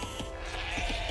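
Sheep bleat in the Age of Empires strategy game, a few short bleats repeating over steady game background sound, fairly loud and close, with no talk over them.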